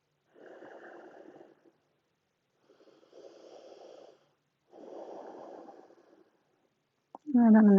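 Three slow, deep breaths during a yoga stretch, each a long airy exhale or inhale separated by silence, close and soft, followed by a voice speaking at the end.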